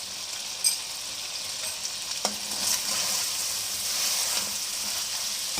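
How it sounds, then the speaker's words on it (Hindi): Mutton fries with garlic in a karahi over raised heat, a loud, continuous sizzle and crackle with occasional clinks of a utensil stirring the pan. "और इसको लहसुन के साथ फ्राई करेंगे।"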